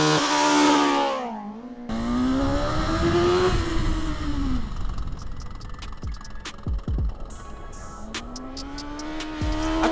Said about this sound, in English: we're going to do 0 to 62, and Davey is going to set the time on the BMW.